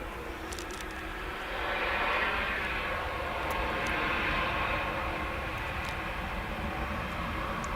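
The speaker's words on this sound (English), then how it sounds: "followed by an ATR coming in from Exeter as Ryanair just touches down" A Ryanair jet touching down on the runway at Dublin Airport, heard as a distant, steady broadband roar of engines and rolling that swells gently and holds, with no talk.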